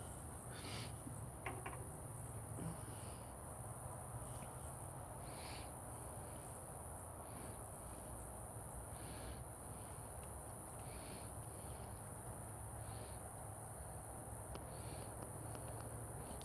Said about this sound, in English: crickets or grasshoppers or something